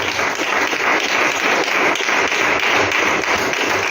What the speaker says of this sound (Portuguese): Dê umas lindas salvas de palmas para o Senhor